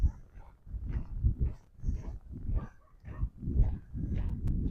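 Dogs bark in the distance along a multi-purpose bike and walking path beside a creek in Regina on a grey January morning, repeated faint bursts in an uneven rhythm over low outdoor rumble.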